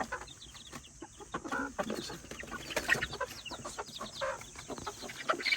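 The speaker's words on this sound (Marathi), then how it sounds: "हे कोंबड्या आहेत." Chickens at a house in Bhatpar, a Madia tribal village in Gadchiroli, cluck and chatter in short overlapping calls at moderate distance over a faint background murmur, with a voice talking quietly.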